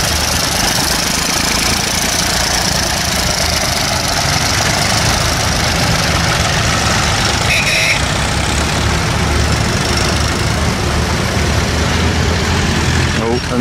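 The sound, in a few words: Ford Super Dexter tractor engine running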